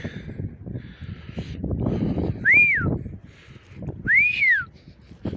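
Two short rising-and-falling gundog training whistle blasts, a couple of seconds apart, cut through steady rumbling wind noise outdoors.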